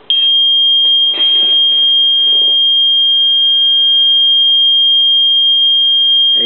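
Yellow alarm of the PiSoccorso emergency system, a loud continuous high electronic alarm tone that holds steady from start to finish with almost nothing else behind it.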